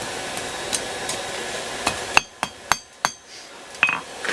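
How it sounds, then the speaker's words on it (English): Light hammer taps ring out on an anvil edge while a steel steak turner hook is bent over it, a handful of sharp metallic clinks spaced irregularly and close by, with no talking. "And it's just light taps."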